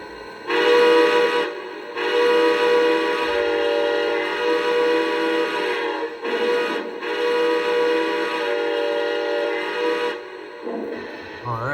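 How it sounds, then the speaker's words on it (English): A Lionel Legacy AT&SF 2926 model steam locomotive sounds its whistle in a series of loud, sustained blasts with brief gaps between them, close by and indoors. "let's give it a good old whistle blast."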